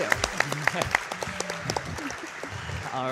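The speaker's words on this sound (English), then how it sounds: "give me a round of applause for CriticalCyd and Sonic Colors." A crowd at a Sonic Colors speedrun event applauds and cheers, with sharp claps scattered over a lively roar of voices.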